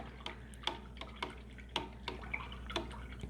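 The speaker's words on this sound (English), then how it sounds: "I'm rinsing my brush out" Paintbrush rinsed in a water cup during acrylic painting, giving quiet repeated drips, taps and small splashes at an irregular rhythm over a low steady hum.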